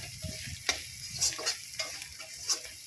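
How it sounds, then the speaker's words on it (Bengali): Salted khoira fish masala with a spoonful each of chilli and turmeric powder and a splash of water being sautéed in a pan, heard as a close, soft sizzle broken by repeated scraping stirs and light spoon clicks. "লঙ্কার গুঁড়ো আর হলুদের গুঁড়ো এক চামচ করে দিলাম দিয়ে হালকা একটু জল দিয়ে কষে নিলাম"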